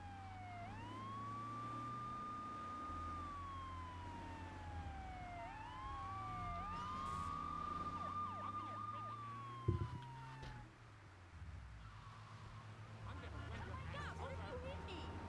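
Police car sirens in GTA 3 with the Frosted Winter mod, wailing up and down in repeated sweeps over traffic and engine rumble, with a sharp crash partway through and voices talking.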